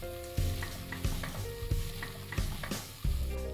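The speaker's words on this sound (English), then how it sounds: "This may require stirring anywhere between 3 to 4 minutes." Ginger garlic paste stirred into sautéed onions for a railway mutton curry, with a spoon scraping and knocking the pan in a steady rhythm of distinct strokes over a soft background sizzle.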